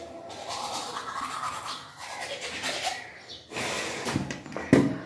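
Toothbrush scrubbing teeth during a brushing challenge, a soft, close, uneven bristle rasp with short pauses and a few breathy sounds, fairly quiet throughout.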